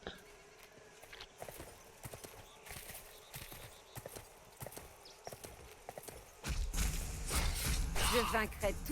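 Horse hooves clopping in Sacred 2, a rapid steady clip-clop that gives way to a louder rush of combat noise near the end, with a voice talking at times over the gallop.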